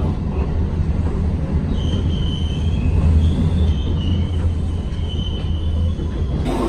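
A passenger train rolls along steadily from inside or close by, a loud continuous rumble of wheels on rails with thin metallic squeals drifting over it and no voices.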